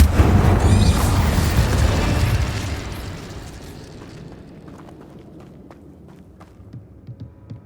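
The Incendio fire spell from Hogwarts Legacy erupts in a loud, roaring burst of flame that rumbles for a few seconds, then fades into quieter crackling and faint footsteps.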